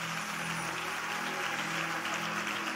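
Applause from an audience at a Christian worship service honoring someone, a steady dense wash of clapping with music or tones running underneath.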